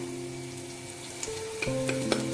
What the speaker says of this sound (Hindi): ये मैंने 4 टेबलस्पून ऑयल में सारी सब्जियां ऐड कर दी थी और अब इसमें ये थोड़ा सौते हो चुका है